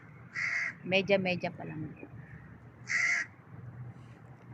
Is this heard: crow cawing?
yes